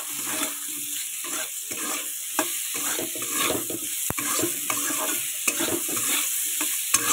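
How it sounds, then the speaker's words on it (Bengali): Potatoes stir-fry with onion and garlic in a pan, a constant close sizzle broken by rhythmic scraping stirs and a few sharp metallic taps of the spoon. "এবার আমি আলুটাকে সুন্দর করে কষাই করে নেব।"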